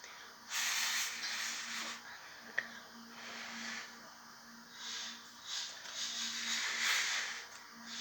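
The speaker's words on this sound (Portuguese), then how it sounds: "Eu tô tendo que assoprar aqui pra ficar bem." Someone blows air close up onto a homemade cardboard model of a Samsung washing machine, with several soft, breathy gusts of varying length and one brief click in the middle. No one speaks.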